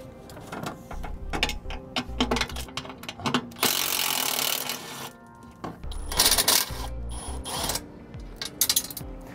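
Ratchet work removes the mounting bolts of TorkLift GlowStep Revolution scissor steps on a 2015 Jayco trailer, with rapid metallic clicking in bursts, brief pauses, and sharper clinks near the end.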